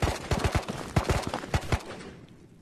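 Rapid gunfire in the video game Ghosts of Tabor, heard during a solo raid on a hill: a burst of about a dozen quick, sharp shots in an irregular rhythm, moderately distant, ending in a fading tail.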